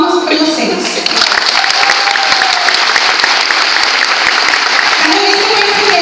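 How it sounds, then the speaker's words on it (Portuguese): An audience at an official MK event in Campinas gives loud, sustained applause, dense clapping filling the hall with cheering voices mixed in throughout. "Palmas para vocês."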